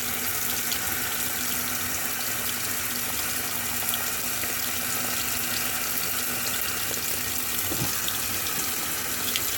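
A washing machine tub fills with cold rinse water, rushing steadily with a constant hissing flow, unbroken and fairly close, with a faint low hum underneath and no voices.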